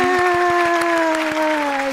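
A studio audience claps to welcome a guest on stage. The applause is a steady, dense patter that lasts the whole moment, with a sustained musical tone ringing over it.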